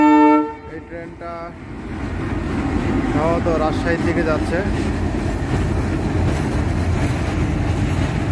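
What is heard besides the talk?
train arriving at Saidpur railway station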